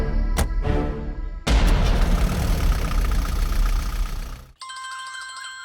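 A mobile phone in an Indian action film starts ringing with a clear, melodic electronic ringtone near the end. It follows several seconds of loud, rumbling, engine-like noise and a sudden cut to quiet.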